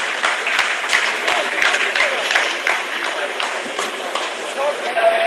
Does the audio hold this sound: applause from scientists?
yes